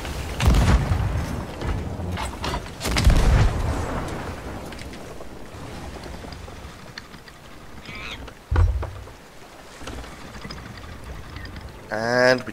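Enemy ship in Sea of Thieves firing its cannons, heavy booming blasts arriving in a few separate volleys amid sloshing water and ship ambience.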